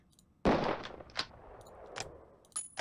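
Rifle shots on a qualification target range in the Police Quest: SWAT video game, one sharp close report followed by a few quieter cracks and clicks spread over a couple of seconds.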